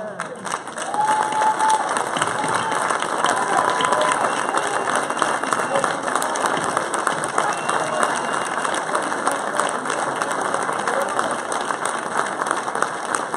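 A crowd at a boxing hall of fame induction ceremony applauds the fighters standing in the room, sustained dense clapping with scattered cheers and voices mixed in, steady and loud for the whole stretch.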